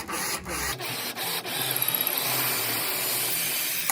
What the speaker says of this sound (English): I'm drilling into the plywood about 1/2 inch